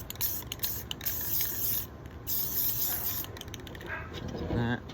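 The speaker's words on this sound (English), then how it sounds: "I've never spray painted metal before." Continuous hissing of an aerosol can spray painting a metal Stahlhelm helmet in Normandy camouflage, with short pauses and changes in pressure, close to the ear, with a voice faintly under it.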